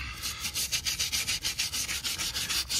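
Steady rhythmic scrubbing of blue tire marks off a floor, close and continuous back-and-forth rubbing strokes at an even quick pace, with no talking.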